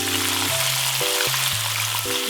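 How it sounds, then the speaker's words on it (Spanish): Pieces of Korean fried chicken frying in hot oil sizzle and crackle steadily up close, a dense bubbling hiss with a few brief tones over it and no talk. "Vamos a freír por 5 minutos."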